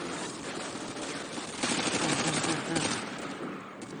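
Call of Duty: Modern Warfare 2 battle, with sustained automatic gunfire rattling densely and loudly across the whole stretch, swelling midway amid heavy combat noise, with voices talking faintly underneath.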